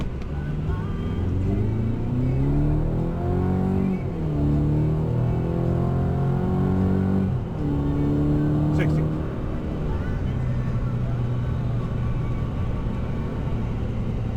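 A 2023 Chevy Colorado ZR2 Desert Boss pickup with a throttle booster in race mode accelerates hard from a standstill, its engine note climbing through several gear shifts in a steady loud roar, with speech mixed in.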